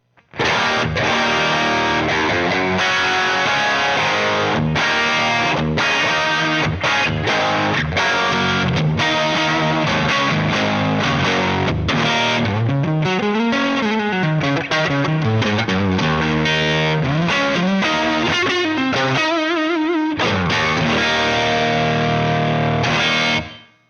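An overdriven electric guitar plays loud, crunchy chords and bending riffs through a distorted tube amp, sustained and dense for the whole stretch.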